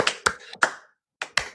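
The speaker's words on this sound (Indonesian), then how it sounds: "Tepuk tangan untuk para narasumber kita" A few separate, sharp hand claps ring out close by at an online seminar, two quick groups with a short silent gap between them.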